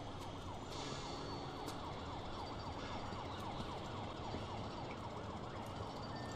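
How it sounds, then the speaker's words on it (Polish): A wailing emergency siren sweeps up and down steadily in the video game Max Payne 3, set in a bus depot, with a rumbling vehicle engine and background noise underneath and no speech. "Syrena."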